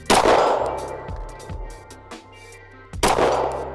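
Pistol shots from an FN 509 LS Edge at steel IPSC targets around 50 yards outdoors: sharp cracks with ringing metallic clangs, several shots spaced over a few seconds, the loudest at the start and near the end.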